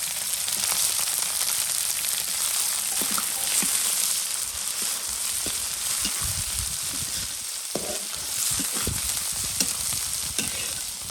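Prawns frying with onions in a village kitchen give a continuous close sizzle, with intermittent scraping and clacks of stirring in the pan throughout.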